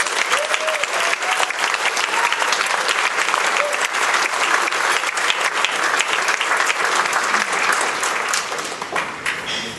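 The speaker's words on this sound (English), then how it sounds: "So let's have a round of applause for our military." A dinner crowd gives sustained, loud applause for military guests, dense clapping filling the room for nearly ten seconds before starting to fade.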